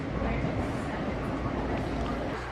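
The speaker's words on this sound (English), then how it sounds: "But I'm on the train now. AMTRAK, my first time traveling on AMTRAK." Amtrak passenger train rolling along rails, a steady low rumble and rushing wheel noise heard from inside the car, constant and fairly loud with no distinct breaks.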